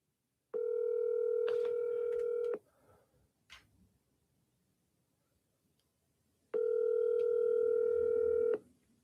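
Ringback on a phone line during a cold call to a mobile home park contact, two long steady buzzing rings separated by a few seconds of near silence, clear and close.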